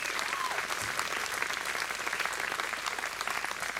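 Steady applause from a crowd at an outdoor folk music show, dense and continuous clapping filling the whole stretch at a fairly even level.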